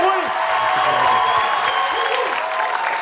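An audience claps steadily throughout, a dense wash of applause from a crowd with a few voices mixed in.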